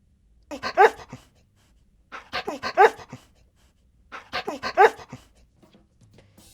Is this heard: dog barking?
yes